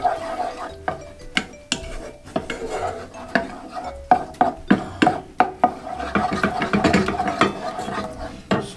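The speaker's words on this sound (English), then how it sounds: "Then you're going to give that a good stir in." Metal spoon clinking and scraping against a bowl while stirring sesame and ginger into a honey sesame sauce, a run of sharp rhythmic taps that speeds into quicker, busier stirring toward the end.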